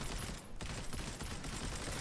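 Video game gunfire, a sustained rattling fusillade of rapid shots that stays steady and continuous, heard faint and distant.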